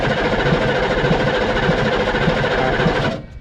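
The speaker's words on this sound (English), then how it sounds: "I'm going to have Alex crank it over" An M1114 Humvee engine cranks over steadily and loudly for about three seconds with a fast, even chugging rhythm, then cuts off abruptly.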